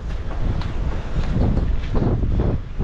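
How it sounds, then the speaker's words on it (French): Wind gusts hard outdoors during a winter garden planting break, loud low buffeting rumble across the microphone with rising and falling surges and no voices. "En vrai il y a du vent mais il fait chaud hein."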